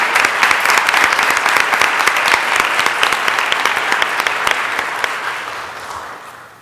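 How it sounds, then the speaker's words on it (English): A city council meeting audience applauds the nominees with loud, dense clapping from many hands, holding steady for several seconds before tapering off at the end. "We can give a round of applause to all those individuals who are nominated."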